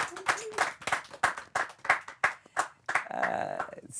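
Applause for a film's actors at a gathering: a run of distinct, fairly close claps at an even rhythm, with a voice briefly over them near the end.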